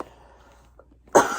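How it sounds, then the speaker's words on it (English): After a near-silent pause, a single sharp cough bursts out close by at the very end. "got a lingering cough and it just won't go away."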